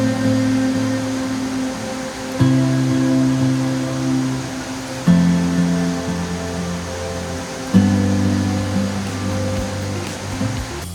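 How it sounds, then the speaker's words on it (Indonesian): Steady rushing roar of a waterfall at a hotel in Guci, broad and constant, with a few low tonal hums shifting underneath and no talk. "Nah, ini dia air terjunnya."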